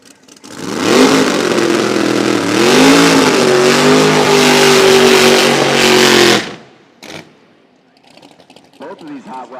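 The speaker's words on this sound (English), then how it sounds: "Pro Charger, man, it makes for an angry sounding engine." A ProCharger supercharged 5.5 Chevrolet hot rod roars loudly in a sustained drag-strip run at Toronto Motorsports Park, its pitch climbing and holding before cutting off abruptly, with crowd noise and voices after.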